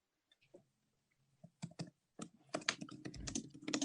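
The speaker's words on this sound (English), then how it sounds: "It's Damien typing, by the way." Typing on a computer keyboard: sparse clicks at first, then a quickening run of close, crisp keystrokes that grows busier and denser toward the end.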